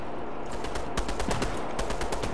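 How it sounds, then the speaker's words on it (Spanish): Rapid automatic gunfire in the video game Fortnite, a string of sharp shots in quick bursts with a brief pause near the start, loud and close with no talking. "¿A quién estáis disparando?"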